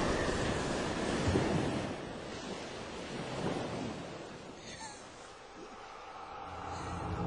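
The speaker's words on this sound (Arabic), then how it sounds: "إن الأمواج عالية" High waves on the open sea around a ship, a rolling, surging rush of surf and wind that swells and eases in slow heaves, with wind buffeting the microphone.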